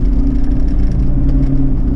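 SsangYong Kyron Xdi 4x4 with a 2.0 diesel engine pulling under throttle, a loud, steady low drone heard from inside the vehicle, no voices.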